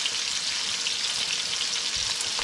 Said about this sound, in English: bacon is frying